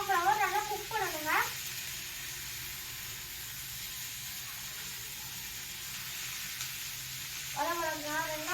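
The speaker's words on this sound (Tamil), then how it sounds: "வரமிளகா, வெங்காயம் நல்லா சேர்த்து வதக்கிக்கணும்" Dry red chillies and onions sauté in a pan with a steady, close hiss and sizzle, while a voice is heard briefly over it at the start and again at the end.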